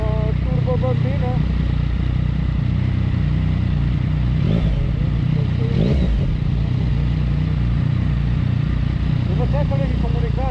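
Motorcycle riding through city streets, with a steady low engine drone running throughout and some clatter, while riders talk over it.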